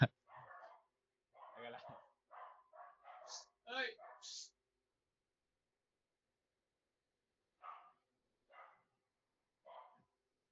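Several dogs barking indoors, a cluster of short sharp barks and yips in the first half, then three spaced single barks later, moderately close.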